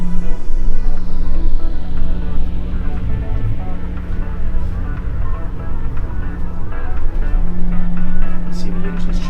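A Regal 38 XO boat engine idles loud and close while the boat eases into its slip, with a steady low droning hum that swells slightly as the throttle is pulsed in short bursts.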